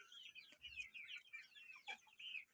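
Young chickens on a poultry farm in Qashqadaryo chirp and peep steadily in a dense overlapping chorus, with a few sharper calls standing out near the middle and a brief low thump early on.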